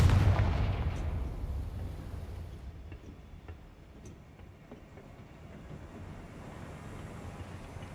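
A Confringo fire spell bursting in Hogwarts Legacy, a heavy low boom that rolls off into a long rumbling decay with faint crackles, with no talk over it.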